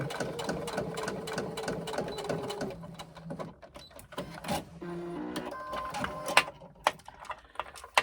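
A sewing machine stitching a seam through fabric for a hobo shoulder bag, a close, steady rapid mechanical whir with bursts and pauses, plus a few sharp clicks near the end.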